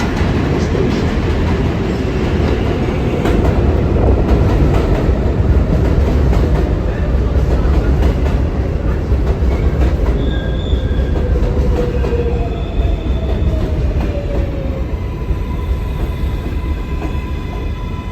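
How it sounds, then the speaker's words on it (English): An R188 7 local subway train on the IRT Flushing Line pulls into Court Square station with a steady loud rumble, rattling wheels and rising metallic squeals throughout. "This is a Manhattan-bound 7 local train."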